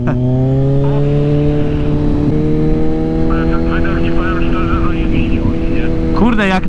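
A car engine with a cheap aftermarket exhaust idles with a deep droning note, holding steady before a quick rev near the end, while a person speaks over it.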